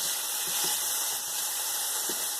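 Onions sauté in a hot pan with a steady, dense hiss and sizzle that stays loud and unbroken throughout, with a few faint clinks underneath.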